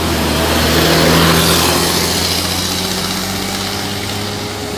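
An El Dipo intercity bus pulls into a bus terminal at Pekan, its engine a steady low rumble with a broad loud roar that swells early and slowly eases off, with no talk.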